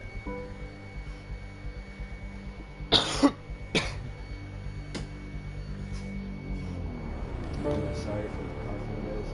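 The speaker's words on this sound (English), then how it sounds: "Sorry for the coughing, guys." A sick man coughs indoors, a pair of sharp close coughs followed by a third, then quieter throat noise under a faint steady background hum.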